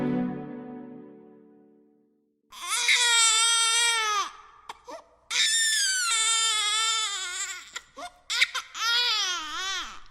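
A baby's shrill screaming cries serve as a sound effect in a narrated audio story, bursting out loud in long wailing stretches with short gaps after a quiet tonal opening.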